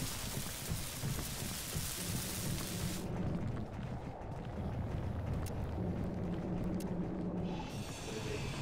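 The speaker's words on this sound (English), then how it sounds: "Storm inbound." A rainstorm in a space-building video game, heard as a continuous rushing hiss of rain with a low, rolling rumble of thunder underneath, steady and fairly loud throughout, with no speech.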